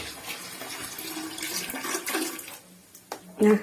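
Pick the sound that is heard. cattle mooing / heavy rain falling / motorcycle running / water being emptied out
water being emptied out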